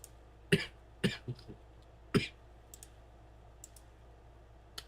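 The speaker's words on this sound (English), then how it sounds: "I hate this cough so much. I'm just so tired of coughing." Three dry coughs from a months-long persistent cough, close but quiet, spaced over a couple of seconds, with faint clicks in an otherwise hushed room.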